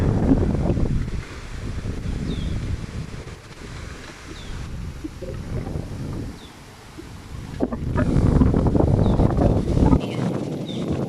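Strong wind blowing outdoors, a continuous loud rushing roar buffeting the microphone, easing for a few seconds in the middle and then surging again, with no talking.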